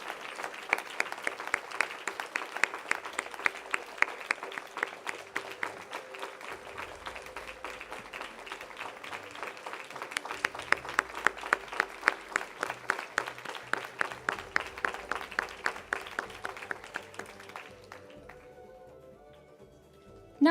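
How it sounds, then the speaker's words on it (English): An audience applauds at a birthday celebration gathering in Leicester after a talk, with dense sustained clapping that holds steady for most of twenty seconds before thinning and fading out. "Please keep the hand of applause going on"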